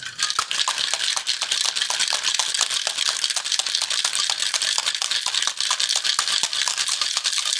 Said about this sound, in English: We'll ice this up, shake it.